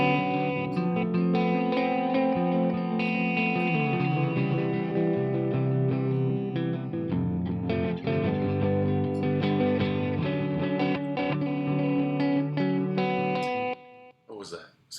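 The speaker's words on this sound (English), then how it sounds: "Let's use this tape echo." A tape echo delay plug-in thickens sustained, distorted tones into a dense wash of repeats that holds steadily for most of the passage before cutting off near the end.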